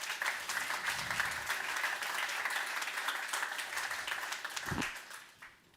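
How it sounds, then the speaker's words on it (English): Steady applause from an audience honoring the members of a science summit panel on round tables, a dense continuous patter of many hands that holds evenly for several seconds before tapering off. "Yeah, so big round of applause for all of you."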